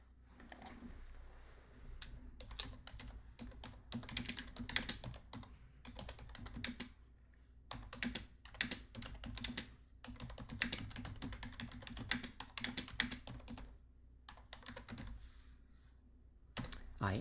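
Someone types a written-response question on a computer keyboard, producing irregular bursts of close, crisp key clicks with brief pauses between runs, over a low steady background hum.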